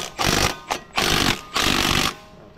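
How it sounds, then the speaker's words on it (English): An impact or power tool drives 13 mm bottom strut bolts on a Cadillac's bent suspension, three loud rattling bursts of about half a second each separated by short pauses, close up with no talk. "13 millimeter coming in on the bottom bolts for our struts here."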